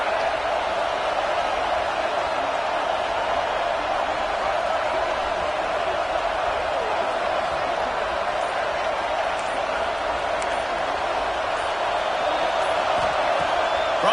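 A football video game stadium crowd gives a steady, unbroken roar behind the defense on a third down, with faint cheers and whoops mixed in throughout.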